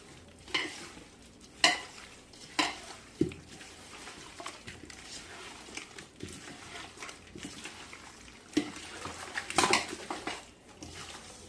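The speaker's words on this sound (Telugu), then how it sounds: "పుదీనా ఇప్పుడు మొత్తం కలిపేసుకోవాలి" A spoon scrapes and knocks around a pot of biryani mixed with mint and coriander. Soft, irregular stirring and several sharp clinks against the vessel sound close and fairly quiet, with no talking.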